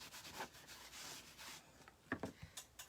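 A cloth rag buffs a chalk-painted surface, giving faint, close, soft swishing strokes, a few sustained wipes followed by short quick rubs, with no talking.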